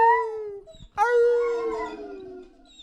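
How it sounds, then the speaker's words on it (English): A dog howls in two long, loud drawn-out wails close by, the second starting after a brief pause and slowly sliding down in pitch as it fades. "The singing dog. Sing for us, Josie."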